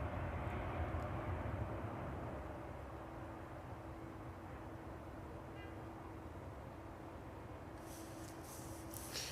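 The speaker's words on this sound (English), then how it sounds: "Still with its reverse thruster deployed there." A jet airliner rolls down a foggy runway at East Midlands Airport with its reverse thrusters still deployed, giving a steady, distant roar with a faint whine and no voices.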